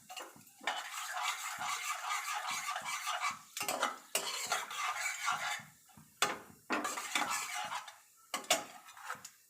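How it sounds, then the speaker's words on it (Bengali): Bay leaf, whole cumin and dry red chili tempering in hot oil, loud bursts of crackling sizzle broken by short pauses and sharp metallic clinks of a utensil against the pan. "তারপরে এর মধ্যে তেজপাতা, গোটা জিরে আর শুকনো লঙ্কা ফোড়নে দিলাম"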